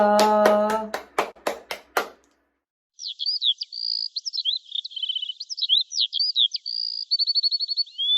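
About seven sharp hand claps in a quick, even row, loud and close, then a pause followed by a long run of high, twittering bird chirps.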